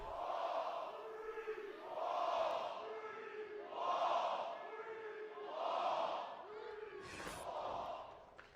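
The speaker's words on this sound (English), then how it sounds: "Sick of hearing the same, like, tempoed chant over and over again." A large crowd at a Call of Duty esports event chants in a repeated rhythmic pattern, four or five swelling shouts spaced about two seconds apart, heard at a distance with a sharp clap near the end.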